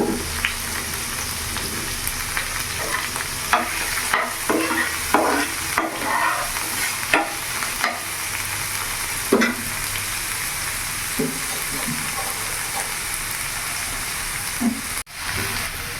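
Chopped beans and small cauliflower florets stir-fry in a pan for veg chowmein: a constant loud sizzle broken by irregular spatula scrapes and clatters, with no one speaking.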